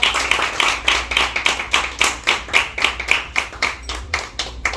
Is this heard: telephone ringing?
no